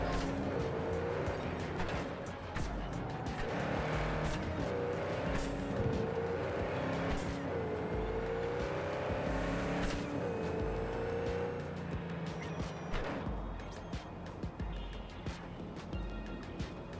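The Hoon, an early-game car in Cyberpunk 2077, drives with a continuous engine drone that rises and falls as it shifts and accelerates. Occasional tire and road noise sits in the mix throughout.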